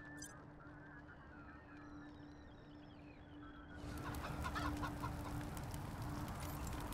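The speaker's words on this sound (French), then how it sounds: "Ah, c'est un des poulets cyborg." Cyborg chickens in the video game Wasteland 3 cluck and squawk at low level over a steady electronic hum, with busier, denser noise rising in the second half.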